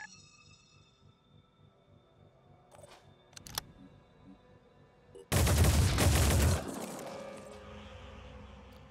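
Sustained burst of automatic turret gunfire in the tactical video game Phoenix Point, loud and dense for about a second and a half, preceded by a few sharp isolated shots and followed by a decaying rumble.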